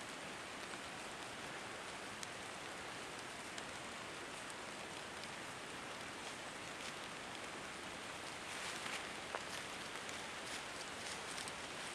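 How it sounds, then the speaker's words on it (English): Rain falling in a forest where chanterelles grow, a quiet, even hiss of drops pattering on leaves and ground, with scattered slightly sharper drips and no voices. "The sound of rain in the forest."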